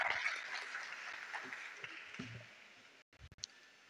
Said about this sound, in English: This round of applause is for the MC